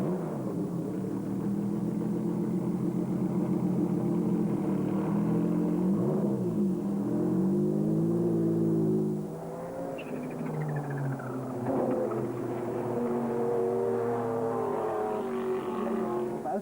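A Porsche 911 GT1 race car laps the track at Le Castellet, its engine note rising and falling through gear changes over a sustained, moderately distant roar.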